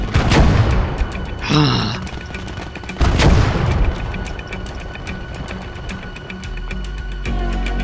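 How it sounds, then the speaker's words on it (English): Machine gun fire in a first-person shooter game, loud dense bursts of rapid shots near and far, mixed with booms, mechanical clatter and a brief voice. "Machine gun."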